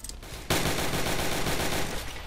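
Sustained rapid gunfire from the WWI trench-warfare game Entrenched, a sudden loud burst of overlapping shots that keeps crackling steadily for about two seconds after a brief quieter lead-in.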